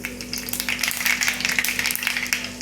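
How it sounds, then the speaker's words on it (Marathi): Mustard seeds crackle and sizzle in hot oil in a pan while cooking okra bhaji, with a busy, close spattering that runs steadily over a low electrical hum. "तेल गरम झाले आपलं. तर यामध्ये आपण थोडीशी मोहरी टाकून घेऊ,"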